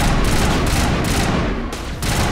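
Sustained automatic gunfire in the video game Mass Effect Legendary, a dense stream of rapid shots with a brief dip before the firing resumes, loud and close.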